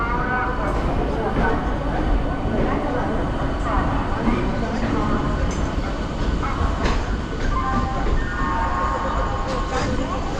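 A train running from Panskura to Digha rumbles and clatters steadily along the track, with a voice talking over the continuous rolling noise.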